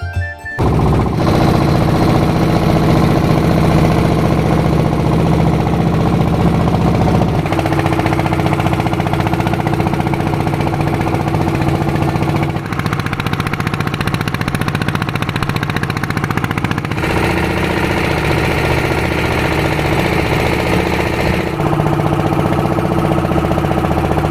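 A boat engine drones steadily and loudly on the river toward the Triveni Sangam at Chandod, Gujarat, a continuous close mechanical rumble with no breaks and no voices.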